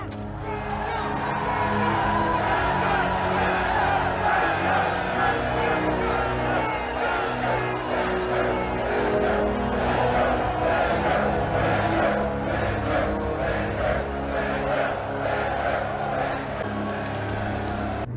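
A lively crowd on the second floor of a restaurant in Saint Augustine, with steady, loud overlapping voices and cheering that continue throughout.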